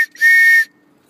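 A single sharp human whistle used to call horses on a ranch, one sustained clear tone about half a second long, loud and close, followed by quiet.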